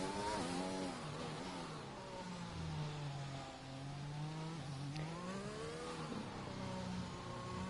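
Onboard engine note of a McLaren Formula 1 car in F1 2021 at Monaco, a continuous high-pitched wail rising and falling through gear changes as it heads down toward Portier and the tunnel.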